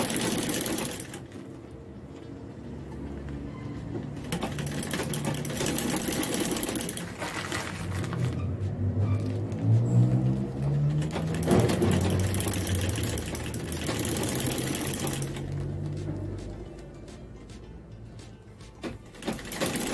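A homemade sewing machine stitches plastic bag strips for a rag rug, a steady mechanical whirring and rapid needle chatter running continuously, close and fairly loud, with brief pauses and speed changes.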